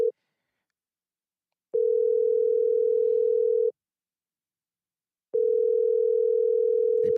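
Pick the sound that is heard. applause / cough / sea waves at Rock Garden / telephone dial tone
telephone dial tone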